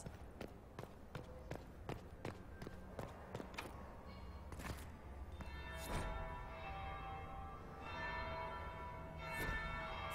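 A bell tolls in the video game Dragon Age. It rings through a run of sharp rhythmic hits and then gives longer resonant strikes against a busy game soundscape.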